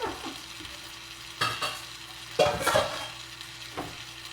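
Chicken pieces frying and being stirred in a pan with butter for lemon chicken in cream sauce: a soft steady sizzle broken by several sharper scraping stirs, close by, with no talking.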